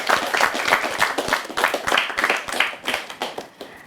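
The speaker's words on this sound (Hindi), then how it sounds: "बहुत तालियां आपको।" An audience at a national children's award ceremony claps warmly and steadily, a fairly close, moderately loud round of applause with distinct individual hand claps audible in the mix.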